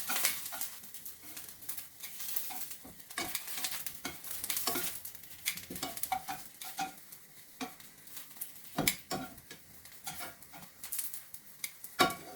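Eggplant slices fry in a pan with a steady crackling sizzle, broken by repeated sharp clinks and scrapes as pieces are stirred and flipped, close and fairly loud throughout.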